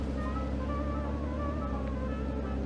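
A steady, low engine drone hums continuously with a faint higher whine on top, like a vehicle idling close by.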